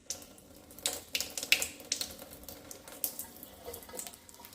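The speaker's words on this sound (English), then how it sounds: "So I'm just giving them a good soak." Water poured over brassica seed trays to soak freshly sown cabbage, broccoli and kale seeds, a soft, close trickling and splashing with uneven bursts, fairly quiet.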